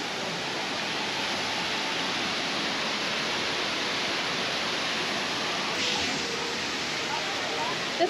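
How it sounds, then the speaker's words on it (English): A waterfall beside the bridge outside a theme park restaurant, heard as a steady, even wash of rushing water that holds constant throughout, with no clear voices. "Waterfall over there"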